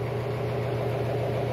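A Toyota Tacoma pickup with an idling fault runs at a high idle of about 1500 RPM, giving a close, steady low engine drone with a faint, slightly uneven pulsing texture.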